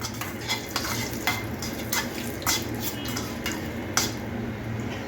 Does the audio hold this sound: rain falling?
no